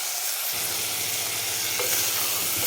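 Mutton sautéing in a pan on full flame for a traditional Maharashtrian mutton and pumpkin curry, a loud steady hiss of frying that starts abruptly and continues unbroken, with faint stirring scrapes.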